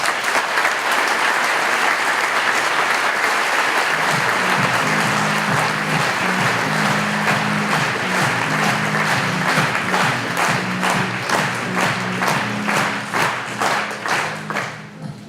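An evening gala audience applauds: loud, sustained clapping from a crowd that settles into rhythmic, synchronized clapping with a steady pulse, gradually thinning toward the end.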